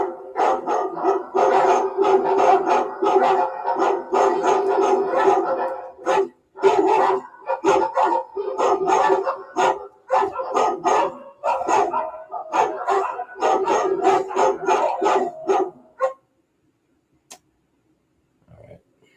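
A dog barks over and over in loud, rapid bursts with short yowling, howl-like stretches, close by and almost nonstop, then goes quiet near the end.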